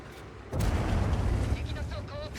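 A single heavy tank cannon blast in World of Tanks, a sudden booming shot followed by a rumbling low tail for about two seconds, loud and close, with faint talk underneath.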